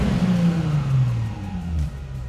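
A car engine running on a 69% ethanol fuel blend revs up and eases back as the gas pedal is pressed, a loud, close, steady mid-low drone that swells and dips over a couple of seconds, with no talking.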